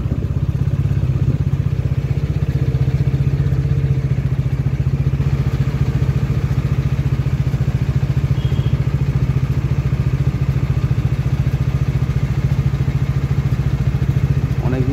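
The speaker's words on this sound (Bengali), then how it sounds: "অনেকদিন বাদে বেরোলাম বাইকটা নিয়ে" A motorcycle riding through traffic near a signal on a winter afternoon, its engine droning steadily and loudly close by, with wind rumble throughout.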